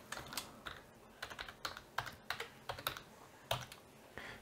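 A password is tapped out on a computer keyboard during a Raspberry Pi setup, with quick, irregular clusters of close, crisp key clicks and short pauses between them, and no talk.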